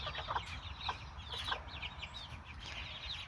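Chickens in a pen cluck and chirp softly at close range, short irregular calls overlapping above a low steady background hum.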